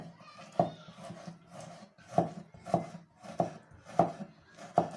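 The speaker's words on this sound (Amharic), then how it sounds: "እናንተ እንደተመቻችሁ አድርጋችሁ መክተፍ ትችላላችሁ።" Tomatoes chopped with a knife on a board, a steady series of sharp, close thuds at roughly even intervals with faint scraping between strikes.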